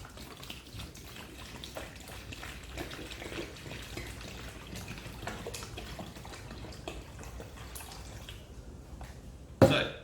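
Apple pear juice pouring from a jug, a soft continuous liquid trickle and splash heard up close, steady and fairly quiet, ending with a sharper clunk.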